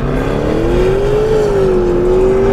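A Maserati Levante Trofeo SUV holds steady on launch control, its engine droning loud and continuous with the pitch rising gently, then easing and climbing again, with no voices over it.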